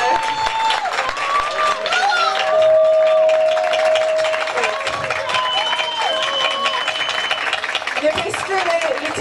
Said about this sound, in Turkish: güçlü bir alkış rica ediyorum şefimize